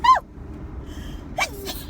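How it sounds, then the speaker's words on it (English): A person sneezes while driving, a sharp close burst at the start followed by a second short sneezy exhale a moment later, over a low steady car cabin rumble. "I hate sneezing when I'm driving."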